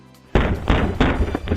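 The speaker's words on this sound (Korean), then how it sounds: "갑자기 발로 문을 쾅쾅 차고 도망가 버립니다." A front door is kicked repeatedly at night in Maryland, producing four heavy, close booming thuds in an uneven rhythm after a moment of quiet, each one loud and resonant.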